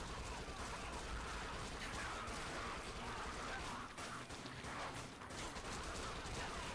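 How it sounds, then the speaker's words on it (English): Rapid, continuous gunfire in the zombie shooter game Dead Nation, likely from an SMG, forms a dense crackling barrage that runs unbroken at low volume. "I'm just shooting you in the back again."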